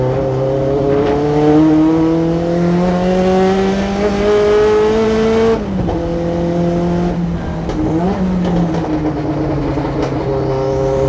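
Loud turbocharged car engine pulling hard under high boost on pump gas with timing pulled, its rising drone holding steady for several seconds before a brief dip at a shift, then climbing again.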